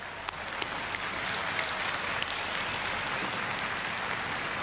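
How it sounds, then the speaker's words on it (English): Steady crowd applause at the inauguration of Taiwan's new president, a dense wash of clapping from a large audience, moderately distant, continuing without a break. "Please give them a round of applause."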